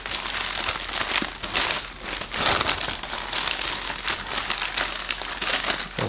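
A pack of NBA trading cards being unwrapped, with continuous crinkling and tearing of tight plastic wrapping, close and fairly loud, with no voices.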